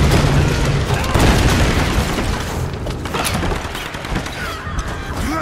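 In the video game Tomb Raider, a bomb explosion booms loud and close, then rolls into a sustained crackling rumble of blasts and debris.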